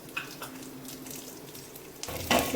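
Urad dal and chana dal frying in hot oil, a soft continuous sizzle that swells louder near the end, with no voices.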